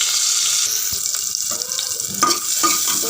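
Ginger, garlic and onion fry in a pan for khichuri, a steady bright sizzle with intermittent clinks and stirring scrapes, fairly loud and close.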